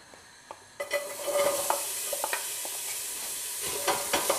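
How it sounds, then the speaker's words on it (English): Onions hitting warm olive oil in a pan while cooking chilli, a soft sizzle rising after a quiet start, with intermittent light stirring clicks and scrapes, no talking. "now once the oil is nice and warm, we can start adding the onions"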